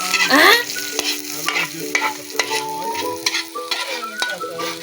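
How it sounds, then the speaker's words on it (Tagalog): Onions sauté in hot oil in a pan for a Filipino ginisa, giving a steady close sizzle punctuated by sharp scrapes and clicks of a utensil stirring against the pan, with no talking. "Okay, simula na ang paggigisa. Unahin natin ang sibuyas."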